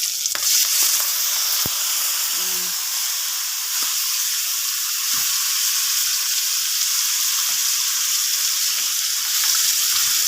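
Fried pork liempo sizzles loudly in a pan with a continuous bright hiss. A few soft knocks and scrapes from stirring come through, and no one speaks.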